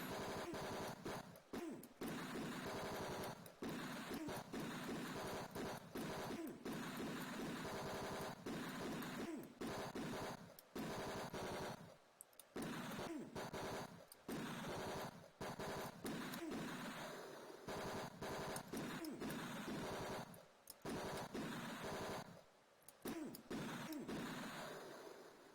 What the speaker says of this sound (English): Got hit by a lot of bullets there.